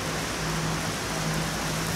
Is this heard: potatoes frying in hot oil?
no